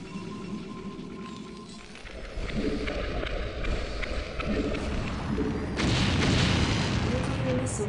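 Nuclear missile detonation in StarCraft, a deep sustained rumbling blast that swells and grows louder toward the end, layered over continuous game noise.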